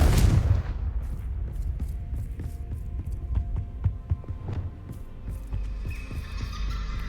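A Confringo fire spell blast in Hogwarts Legacy opens with a heavy booming burst, followed by a low rumbling hum and scattered light ticks and thuds.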